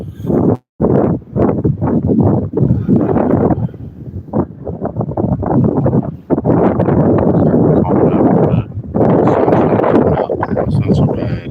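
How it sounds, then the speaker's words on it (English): Strong outdoor wind buffets the microphone on a cool morning, a loud continuous rumbling roar with brief gusty drops and surges throughout. "that wind's popping this morning, man"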